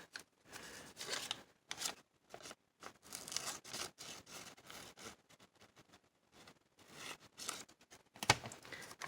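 Scissors snip through paper on a diagonal at the end of a paper tag, with bursts of crisp cutting and rustling separated by short pauses, close and moderately quiet.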